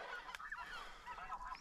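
Specklebelly geese honking overhead during an Alberta goose hunt, a flock's overlapping nasal calls sounding steadily from mid-distance, ending in a sudden loud burst close by.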